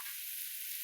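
A dry moth bean stir-fry, called matki bhaji, sizzles steadily and close in a pan over a gas flame as turmeric goes in. The hissing frying noise stays even and bright, and no one speaks over it.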